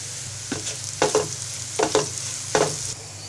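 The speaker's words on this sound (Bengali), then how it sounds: "এবার ব্রাউন কালার করে ভেজে নিব।" Onions and green chillies frying until brown in a pan, under a steady close sizzle, with several distinct spatula scrapes and stirs spaced about a second apart.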